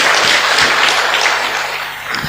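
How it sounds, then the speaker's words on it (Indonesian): An audience at a CFA Society Indonesia business conference applauds, producing a dense, steady wash of many hands clapping together. It is loud and continuous, with no speech over it. "Sekali lagi tepuk tangan buat kita semua"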